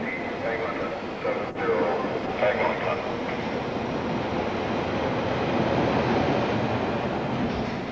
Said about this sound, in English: That's where the subway trains run all day and all night.